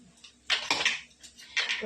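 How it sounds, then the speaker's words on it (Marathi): Water is poured over ground chillies for pani puri, coming in bursts of splashing and pouring with short pauses between, close and moderately loud. "इथे आपण पाणी टाकणार आहोत"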